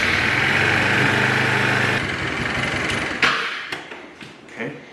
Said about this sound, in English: we're gonna start it first to get all the oil where it needs to be